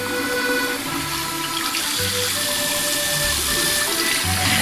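Steady running water from a shower while a kitten is bathed, a continuous broadband hiss at close range, with no voices.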